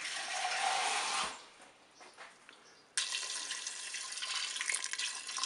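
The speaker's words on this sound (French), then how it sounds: "Je vais mettre de l'eau au ras" Water pouring into a Cookeo multicooker pot over pasta, a steady close splashing stream that stops briefly and then resumes more strongly.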